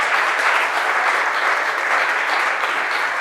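An audience at a wine tasting conference applauds the winegrowers present for the evening, with steady, sustained clapping from many hands at close range and no voices over it.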